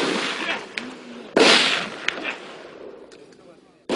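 Rifle shots ring out during 2001 basic military training at the Korea Military Academy: a few loud sharp reports with reverberant tails, close and outdoors, among other distant bangs and background noise.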